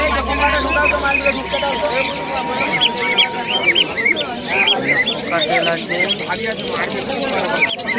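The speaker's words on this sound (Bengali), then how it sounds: "নিচে রয়েছে ওড়া লাইনে কবুতর ফেন্সি কবুতর" Pigeons call and squawk together at close range at the Uluberia pigeon market, over a busy background of crowd chatter.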